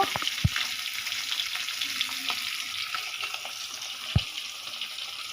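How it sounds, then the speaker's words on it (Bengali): Eggplant pieces frying in a pan alongside a fish curry, a steady broadband sizzle with two sharp pops near the start and end, heard alone without talk. "এগুলিও ভাজব"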